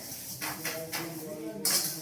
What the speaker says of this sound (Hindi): बर्तन तो दिन बाद धोए रहे हैं